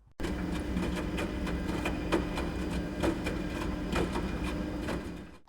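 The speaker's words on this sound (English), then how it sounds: "I'll just play the sound of the washing machine that I recorded" A washing machine churns in a steady mechanical drone, with soft regular knocks and clunks roughly every second over its continuous hum, recorded close up and fairly quiet.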